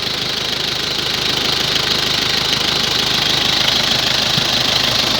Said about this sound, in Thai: สตาร์ทติดเครื่องดีนะครับ